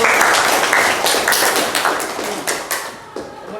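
A middle-school math class in Indonesia breaks into brisk applause, a dense burst of many hands clapping close by that stays loud for several seconds, then thins and fades toward the end.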